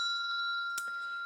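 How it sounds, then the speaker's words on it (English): A small ritual bell, bought at a Pagan Pride Day, rings with a clear sustained tone that hangs steadily and softly, with a faint extra tap partway through and no voices. "So I just brought a bell here."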